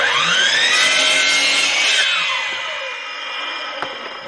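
A Metabo miter saw makes a closed-end cut through baseboard: a loud, close whining saw cut that winds down over a couple of seconds, ending with a light knock.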